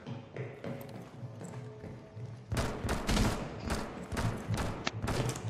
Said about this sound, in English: I think he's shooting from far away.